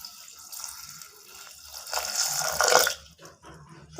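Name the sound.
glass of water poured onto chopped beetroot in pressure cooker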